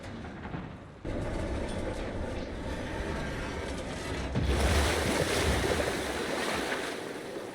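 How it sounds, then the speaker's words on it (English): Water rushes and churns as opened sluice gates drain a reservoir in the Western action game Evil West, a steady broadband roar that swells louder partway through and stays close, with no voices. "Water's going down"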